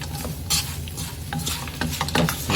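Lemon rice stirred in a frying pan over a flame, with close scraping and clinking strokes against the pan over a soft, steady sizzle.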